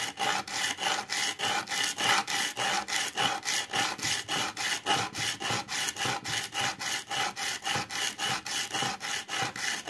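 A chisel is sharpened on a whetstone, each blade stroke making a steady, rhythmic rasping scrape. Roughly three strokes land every second, close and fairly loud, with no voices.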